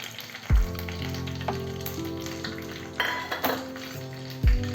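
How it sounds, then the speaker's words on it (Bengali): Curry leaves and mustard seeds sizzling in hot oil for a tempering, a bright crackling hiss broken by a few low thumps and clinks of a utensil against the pan. "দেখো এই কারি পাতাগুলো এর মধ্যে আমি দিয়ে দিলাম। একটু সর্ষে দিয়ে দিলাম।"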